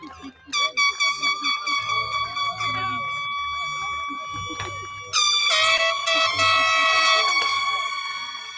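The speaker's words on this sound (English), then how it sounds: "Where are those air horns? Let's hear them." Air horns blare at a graduation ceremony, first a series of short toots, then several horns sounding together in long sustained blasts, with crowd voices and cheering underneath.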